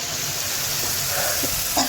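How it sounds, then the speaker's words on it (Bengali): Spices sizzle and are stirred in a pan while cooking a fish and taro curry, giving a steady close hiss with a few soft scraping sounds near the end. "মশলা কষাচ্ছি, আসলে তরকারির টেস্টটা নির্ভর করে মশলা কষানোর উপরে।"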